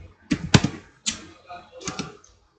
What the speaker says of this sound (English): type mirror.